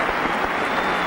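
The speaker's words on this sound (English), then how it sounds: "Applause for Fotheringham" Cricket spectators clap for Fotheringham's half-century, a brief burst of continuous crowd applause heard at steady volume.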